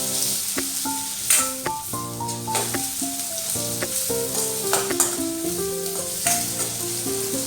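Sliced onions sizzle in hot oil in a pan for mint rice, a steady bright crackle that continues throughout, mixed with tuneful background music.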